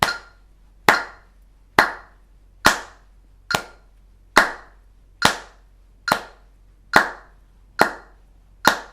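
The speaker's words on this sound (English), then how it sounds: "We're just going to clap to the click of the metronome" Hands clapping steady quarter notes in time with a metronome, about ten sharp, evenly spaced claps, close and crisp with quick decays, no voices.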